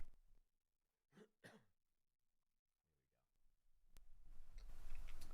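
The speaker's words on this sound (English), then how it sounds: "I just want to cough for a second" A short cough from a person recording at a lowered microphone, a couple of quiet throaty bursts in an otherwise hushed room, followed by rising background noise.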